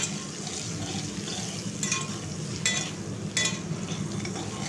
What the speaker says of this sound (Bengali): এরপর পটলগুলো দিয়ে দিচ্ছি, দিয়ে পটলগুলোকে আমি একটু হালকা ভেজে নেব।